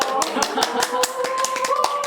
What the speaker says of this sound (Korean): 이근하 선생님을 박수로 환영해 볼까요?